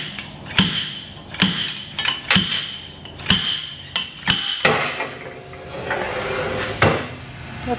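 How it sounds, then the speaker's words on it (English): Heavy metal slide hammer in an auto repair shop, struck about eight times in an uneven series of loud, sharp clanks with ringing decay, alone with no talk. "let me get the big slide hammer"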